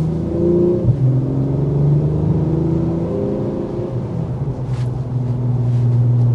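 A 2024 Acura TLX Type S with a turbo V6 accelerating gently, steady engine and exhaust drone rising slightly in pitch, heard close from inside the car with no talking.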